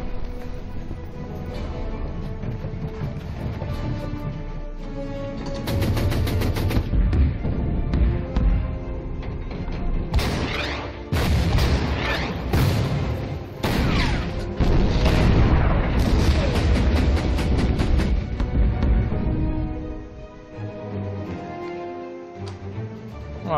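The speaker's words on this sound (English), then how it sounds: "And more artillery." Artillery fires in the Order of Battle Blitzkrieg war strategy game, a dense run of deep booms and blasts that come in clustered bursts, loud and heavy, with rumbling tails between impacts.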